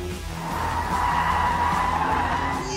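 A mid-size sports SUV with dry-sump engine and active aerodynamics corners hard, rolling heavily and losing grip; its tyres give a loud, sustained high squeal that holds steady over a low engine drone.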